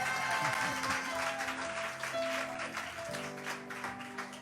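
Church congregation applauding during a worship service, a steady wash of clapping with scattered voices and a faint melodic tone underneath, fairly quiet and continuous throughout.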